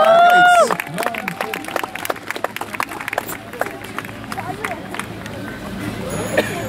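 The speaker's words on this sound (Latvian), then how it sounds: "Tiešām ovācijas vērts, tiešām. Skaļāk aplausi Jānim" Concert crowd clapping and cheering fills the space with dense, continuous applause after a brief opening tone, staying steady and fairly loud throughout.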